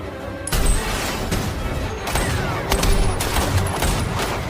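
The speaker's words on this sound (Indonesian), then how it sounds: "Terjadilah baku tembak." A shootout from the action film The King's Man: dense, loud bursts of gunfire and impacts overlap continuously, close and chaotic, with little pause between shots.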